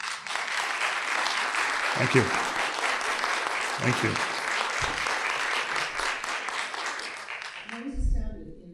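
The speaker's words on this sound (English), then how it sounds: "both of these candidates deserve a very well-deserved round of applause" A room of attendees at a League of Women Voters Republican primary candidate forum applauds the candidates, with steady sustained clapping throughout, while a voice briefly speaks over it near the end.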